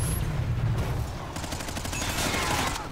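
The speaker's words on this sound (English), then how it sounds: "I shot that guy so many fucking times" Gunfire in the game Infinite Warfare, a dense continuous fusillade of rapid shots blending into a steady roar, loud and close, with no speech over it.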